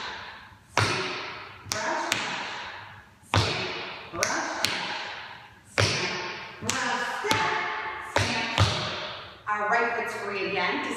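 Tap shoes striking a hard floor in the Shim Sham's Tack Annie step, sharp close taps in an uneven rhythm of about a dozen strikes, each ringing briefly, with a quick flurry of light taps at the end.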